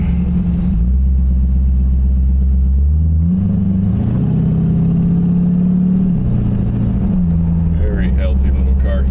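A 1932 Ford three-window coupe with a 302 V8 and C4 automatic pulls away, its low engine rumbling and rising through the revs as it drives off, loud and close, with speech over it.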